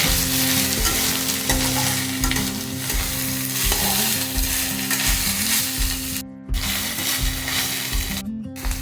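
Fish or shrimp frying and sizzling in oil in a pan while being stirred, with steady crackling sizzle and scraping of a spatula throughout, close and loud, no talk.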